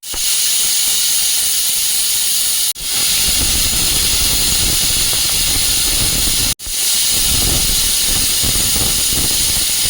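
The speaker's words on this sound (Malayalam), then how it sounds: "ഗ്യാസ് ഓൺ ചെയ്ത് പാലക്ക് കറി വെക്കാനായിട്ട് ഞാൻ കുക്കർ അടുപ്പത്ത് വെച്ചിരിക്കുകയാണ്" A pressure cooker on a gas stove, cooking palak curry, vents a loud, sustained steam hiss that cuts out sharply twice before resuming at full force.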